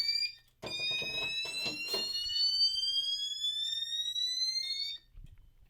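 A quiet fire alarm on a 2-wire system, set to low volume, sounds a slow whoop, each tone sweeping steadily upward over several seconds before cutting off, with brief handling noise around it.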